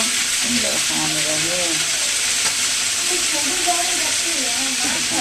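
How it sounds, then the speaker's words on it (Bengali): Chicken pieces fry in oil in a wok for a pot of fried rice, giving a loud, constant close-up sizzle and hiss with faint scraping stirs underneath. "এখন মুরগিগুলো ভালোভাবে লাল করে ভাজবো"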